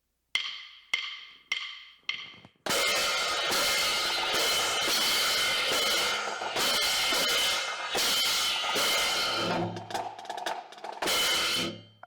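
Marching crash cymbals in a drum loop: four sharp separate crashes, then a long loud sustained wash of hits and crashes that breaks off at the end, with no voices.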